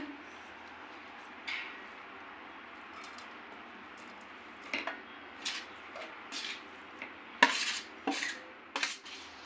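Grated carrots tipped into melted ghee in a pan for carrot kheer, sparse metal clinks and spoon scrapes against the pan over a low, quiet background.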